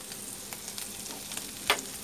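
Finely chopped crushed ginger and green chilies sizzle softly in hot oil in a pan, a faint steady crackle broken by a few scraping stirs and one sharper spatter near the end.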